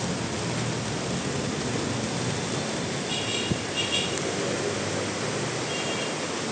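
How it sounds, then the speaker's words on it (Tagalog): Heavy rain pours steadily in Barangay 208 with a dense, even hiss filling the scene, while a soft low rumble of thunder rolls faintly underneath and a single sharp knock stands out midway. "Bumuhos po ang ulan guys."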